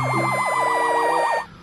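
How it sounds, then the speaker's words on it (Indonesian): A fire truck siren warbles loud and fast, oscillating rapidly up and down close by, then cuts off abruptly. "ini ada mobil pemadam kebakaran"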